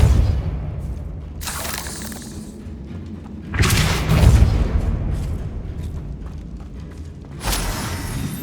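Confringo blast spells exploding in the Hogwarts Legacy video game: three heavy booming bursts with crackling debris, each fading into a rumbling tail.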